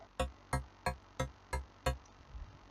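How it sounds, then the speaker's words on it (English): A synth saw wave with phaser and a plucky volume envelope plays six evenly spaced notes about a third of a second apart. Each note has a bright, quick attack and a short decay, heard alone and up close, and the last is followed by a faint tail. "it's a saw wave right here with this kind of volume envelope"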